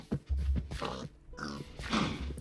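Pigs in the video game TerraFirmaCraft give a few short, low grunts and snorts in quick succession, close and moderately loud, over faint background game sound.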